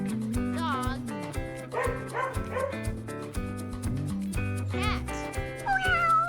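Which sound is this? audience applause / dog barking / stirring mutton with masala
dog barking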